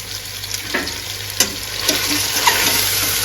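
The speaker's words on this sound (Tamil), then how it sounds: "தக்காளியை சேர்த்து நல்லா திருப்பி கொடுத்துக்கலாங்க" Tomatoes for veg biryani frying in a pan while being stirred, a close, steady sizzle with soft spatula scrapes at irregular intervals, no voices.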